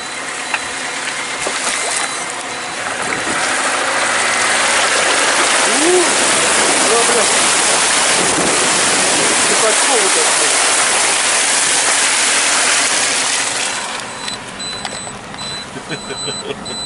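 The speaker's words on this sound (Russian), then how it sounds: "вот такая речка." A small river rushing and splashing at a crossing point, a loud, steady broadband roar of flowing water that swells in the middle and eases off near the end.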